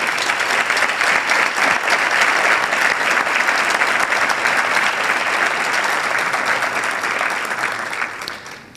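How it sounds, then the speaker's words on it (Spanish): A seated audience at a local police institutional ceremony gives loud, sustained applause: dense rapid clapping that holds steady for several seconds, then tapers off at the end. "Solicitaría para todos ellos un fuerte aplauso,"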